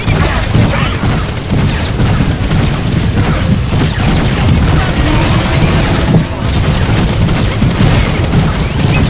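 Rapid automatic gunfire from a high fire-rate gun in Borderlands: The Pre-Sequel, a dense, loud, continuous barrage with explosions during a chaotic Ultimate Vault Hunter Mode fight, with a player talking over it.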